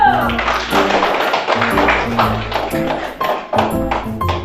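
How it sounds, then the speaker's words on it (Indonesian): Students applaud in a classroom, producing a continuous burst of loud, close clapping that holds steady for several seconds with a few sharper claps standing out, while a voice speaks over it. "Kasih aplaus dulu."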